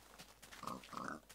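Pigs in the video game Minecraft grunt and oink in a few short, closely spaced bursts, faint but clear against a quiet background.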